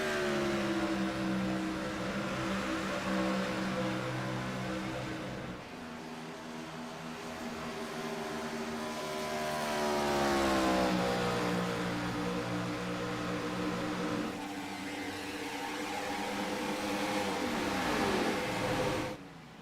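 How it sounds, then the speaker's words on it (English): IROC race car engines drone as the cars roll through a corner off the throttle, their pitch sliding down and up in smooth sweeps, with no talking over them. "listen to these race cars roll through the corner, completely out of the gas"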